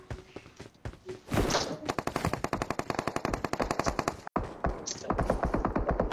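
An MK14 rifle fires in a shooter video game: loud, rapid automatic bursts of closely spaced shots that last several seconds, break off briefly, then start again.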